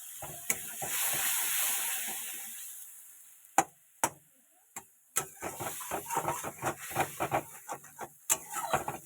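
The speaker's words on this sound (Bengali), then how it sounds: "ভালো করে এবার কষতে থাকুক মশলাটা" Masala spice paste with salt and a little water cooking in a pan, a sizzling fry at the start that fades, then a series of sharp knocks and scraping stirs in an irregular rhythm.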